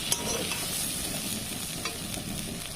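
Fried food is turned and stirred in a hot oily pan: a continuous, fairly quiet sizzle with gentle scraping and a few faint clicks of the utensil, heard up close with no voices.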